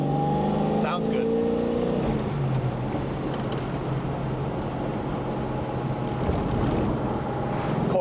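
A 1979 Ford Mustang with coilovers and stiffer sway bars drives steadily, its engine holding a continuous loud drone with a shift in pitch early on and wind rushing past throughout.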